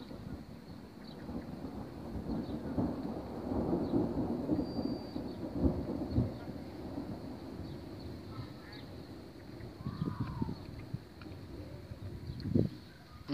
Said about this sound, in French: Je pense qu'on va se taper peut-être un orage fort.